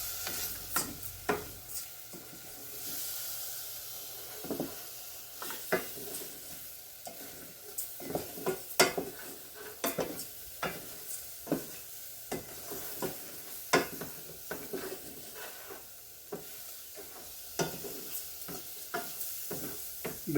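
Dry rice grains stirred and toasted in a hot pan with garlic, giving a steady sizzle broken by repeated scraping strokes of the spoon at an irregular rhythm, close and clear with no voices.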